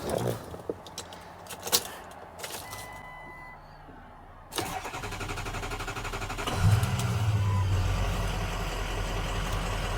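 Keys jangle and click, then a 2005 Ford Excursion's 6.0L Powerstroke diesel engine cranks and catches on a warm start, settling into a loud, steady, low rumbling idle nearby.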